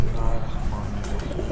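Golden pigeons coo softly in a loft, low throaty murmurs under a voice talking close by.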